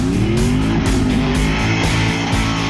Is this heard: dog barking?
no